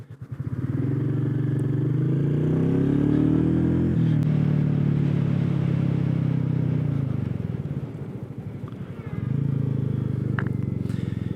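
A Royal Enfield Meteor 350 motorcycle ridden at a steady pace, its engine rumbling loud and close for the whole stretch, easing off briefly near the end before pulling strongly again; no one talks.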